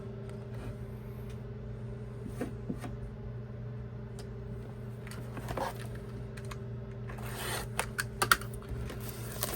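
A sticker being peeled off the packaging of an NCT Wish 'Ode to Love' album: soft, close scratchy crackles and rips come in short bursts over a steady low hum, getting busier toward the end.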